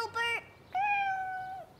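A cartoon cat on a kitchen table lets out two clear meows close up, the first short and the second longer and drawn out, with no talking.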